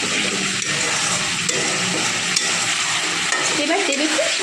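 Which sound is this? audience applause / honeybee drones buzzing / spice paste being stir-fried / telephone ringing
spice paste being stir-fried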